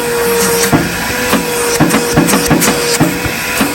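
A household vacuum cleaner runs loud and close with a steady whine, punctuated by repeated knocks and clatters as it bumps and picks up debris from sweeping.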